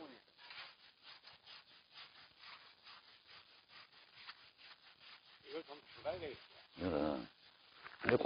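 Hand saw cutting through a thick fruit tree branch during pruning, repeated rasping strokes in a steady rhythm, faint and close, with people talking nearby.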